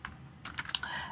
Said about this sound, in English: then I am typing here